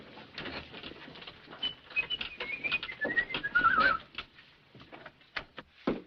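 Pigeons on an early-morning street, with soft bird calls and a brief rising whistle-like coo over a busy murmur of footsteps and shuffling, moderately close.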